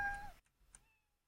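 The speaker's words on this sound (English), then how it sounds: "Move our cat to the ball and the cat meows." A short cat meow sound effect plays in a Scratch game, a brief tonal cry followed by a couple of faint clicks and near silence.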